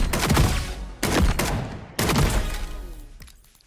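Hip-fire gunshots in the shooter game FragPunk, three loud close bursts of rapid fire, each about a second long, separated by brief gaps and trailing off into a fading echo.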